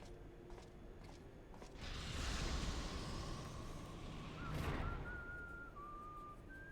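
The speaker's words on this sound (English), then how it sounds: "I'm so good at whistling." A person whistles in a video game, a thin rising and wavering tone near the end, faint over a loud rumbling, gusty game background with no talking.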